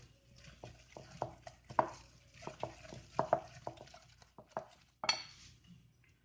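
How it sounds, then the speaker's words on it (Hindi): Utensils clink and scrape against a bowl as a thick onion batter with ginger-garlic paste is stirred, with irregular taps and knocks close by and no talking. "अब इन सारी चीज़ों को दोबारा से मिक्स कर लेना है।"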